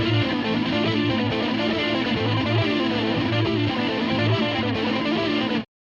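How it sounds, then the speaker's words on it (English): Distorted electric guitar playing harmonized lines in thirds and fourths over a held chord, with chorus and effects, loud and continuous for about six seconds before stopping abruptly. "Here's an example of how it sounds when you play 3rd or 4th over the same chord."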